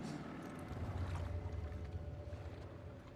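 A boat engine in The Last of Us Part 2 rumbles low and steady, close by, with a wash of water and wind over the drone for a few seconds and no voices.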